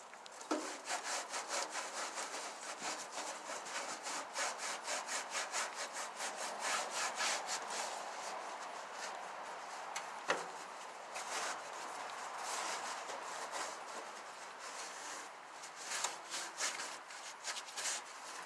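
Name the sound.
scrubbing soapy old grill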